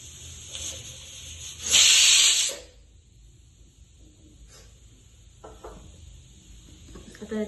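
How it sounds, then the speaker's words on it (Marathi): A pressure cooker holding dal for dal tadka lets out one loud, steady steam hiss lasting under a second, then goes quiet amid faint kitchen clatter. "दाल तडक्यासाठी आपण कुकर ठेवलाय"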